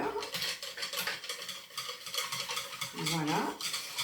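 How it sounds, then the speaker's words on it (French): A whisk stirs a custard base of vanilla powder in a bowl, making rapid rhythmic scraping and swishing, close and continuous. "Je vais remuer avec mon fouet mélangeur"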